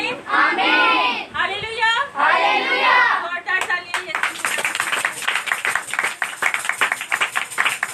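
A congregation at a Wednesday prayer meeting talks and chants for about four seconds. Then dense, rapid clapping breaks out and continues loudly and steadily to the end, with voices mixed in.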